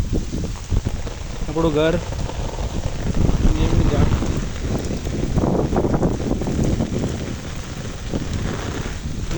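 Steady first rain of the season pours down around a home near a Mataji temple, with a hissing wash and gusts of wind throughout while someone talks over it.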